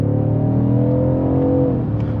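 A 2021 BMW M550i xDrive with a bi-turbo V8 accelerates, heard from inside the cabin as a loud, rising engine drone that eases off near the end.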